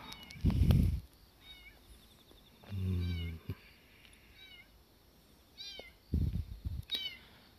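Kitten meows in several short, high-pitched cries scattered across the clip, faint and somewhat distant, mixed with a few close handling bumps and rustles.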